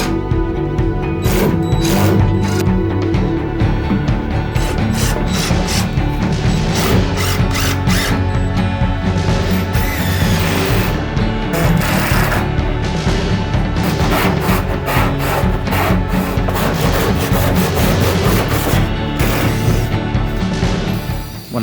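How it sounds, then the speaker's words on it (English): An angle grinder cuts off a stuck screw inside a boat being built into a small studio, a loud continuous metallic grinding with repeated sharp bursts and rattles for about twenty seconds. "He couldn't screw it out, so we had to angle grind it off."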